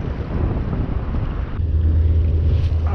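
Wind gusts across an open stretch of the Ohio River at night, buffeting the microphone in a steady, loud rush that swells stronger toward the end.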